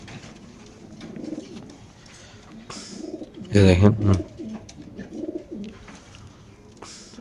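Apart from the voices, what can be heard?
racing pigeons cooing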